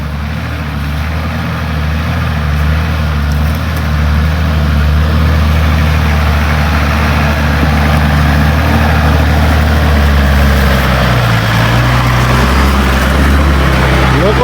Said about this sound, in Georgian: ლოკო ტურბო ტრაქტორი